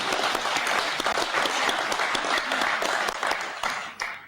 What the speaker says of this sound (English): May I have a clap for that?